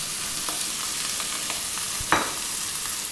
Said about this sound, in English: The brinjal has to fry nicely in the oil.